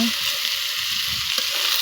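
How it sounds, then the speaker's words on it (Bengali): Rice sizzling steadily as it fries in hot oil and ghee in a pan, a dense continuous crackle held close and fairly loud, with a few faint stirring knocks before it cuts off abruptly. "সুন্দর করে লাল লাল করে ভেজে নিব।"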